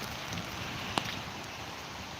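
Steady rain falling outdoors at a mini-tractor dealership in Lutsk, a continuous soft hiss of drops on surfaces with one faint sharp click, no talk.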